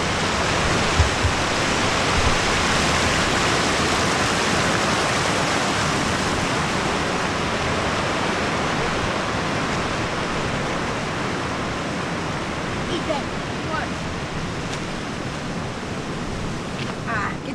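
A creek in Alaska's Rainbow Mountains rushes steadily beside a large flat rock, giving a loud, dense, unbroken wash of flowing water with no pauses.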